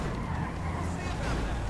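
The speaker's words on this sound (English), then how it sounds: "This is a lot of cars." Several cars driving in Grand Theft Auto V, a dense continuous engine rumble with tyre noise, loud and close, with people talking faintly underneath.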